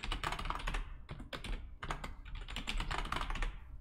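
Password being typed on a computer keyboard, a quick dense run of close, crisp key clicks in two bursts separated by short pauses, no talk.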